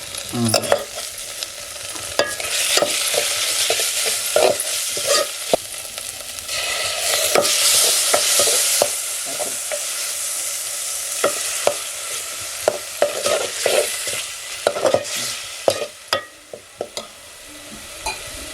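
Ginger garlic paste fries in a pan on a wood-fired stove, a constant crackling sizzle broken by repeated scraping strokes of a stirring spoon, close and fairly loud.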